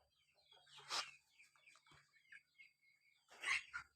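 Chickens with four chicks, one male and three female, make soft, faint clucks and peeps. The calls come in a few short bursts separated by quiet gaps.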